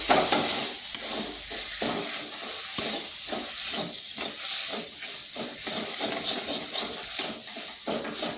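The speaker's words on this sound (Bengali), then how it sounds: "জিরে গুঁড়ো আর দিচ্ছি গরম মশলা এগুলো ভালোভাবে মিশিয়ে নিচ্ছি" Spoon stirring cumin powder and garam masala into a spiced potato filling for aloo patties in a pan, with a steady soft sizzle and repeated scraping strokes throughout, close and fairly loud, no talk.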